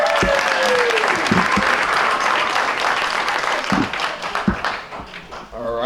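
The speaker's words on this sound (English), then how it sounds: "Give Christian a round of applause." Sustained applause from a crowd at a masquerade gala, dense clapping close by that thins toward the end, with a voice speaking over it.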